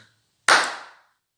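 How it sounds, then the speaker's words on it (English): One sharp hand clap used to trigger an Arduino-based clap switch, a single close crack with a short decaying tail after a moment of near silence. "So as you can see, when I clap,"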